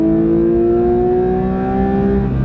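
A manual Porsche 911 GT3 engine revs hard toward 9,000 RPM, a loud, close, sustained mechanical howl whose pitch climbs steadily from start to finish.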